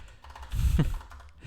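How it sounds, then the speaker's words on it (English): A brief, close clatter of computer keyboard keys rises out of a quiet room and fades within about a second. "Why am I always typing like this?"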